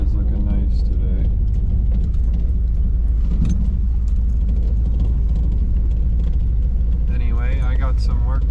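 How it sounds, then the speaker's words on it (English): A 1987 Chevrolet Silverado pickup with a 350 throttle-body-injection V8 and a mild cam rumbles through a cold start and idles loud and close. Keys jangle over the deep, steady engine note. "I just wanted to take y'all along for this cold start I had."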